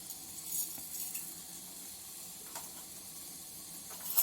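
Mustard seeds sizzle in hot oil for avalakki uppittu (poha upma), a soft steady hiss with faint crackles throughout.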